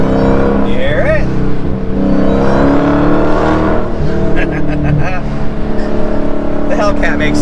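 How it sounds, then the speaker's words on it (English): Dodge Hellcat V8 with a JLT cold-air intake revving loudly and continuously up close, engine roar and intake whoosh rising and falling, with tire and road noise and a voice speaking over it. "The Hellcat makes so many great sounds."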